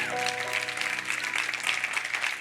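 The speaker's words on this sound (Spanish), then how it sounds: "Un aplauso fuerte al Señor." A church congregation applauding at a Christmas-season service, sustained dense clapping from many hands filling the space, steady and fairly loud from start to finish.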